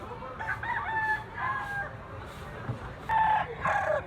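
A big, yellow-legged bullstag rooster crows close by in repeated drawn-out calls, with a pause between the first crows and the later ones, over faint farmyard background.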